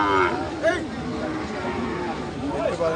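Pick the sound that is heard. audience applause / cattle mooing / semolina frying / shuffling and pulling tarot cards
cattle mooing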